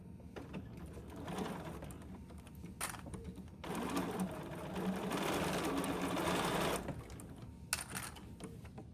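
A sewing machine stitches quilt block fabric in a steady, buzzing run of about three seconds, framed by quieter handling noises and brief starts before and after.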